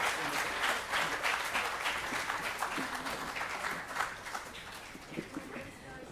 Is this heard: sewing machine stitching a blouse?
no